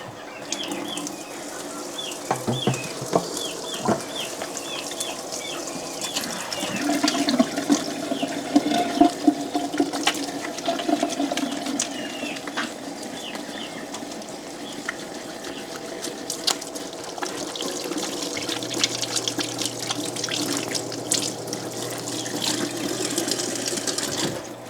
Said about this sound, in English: now I'm gonna just give my hands a quick wash here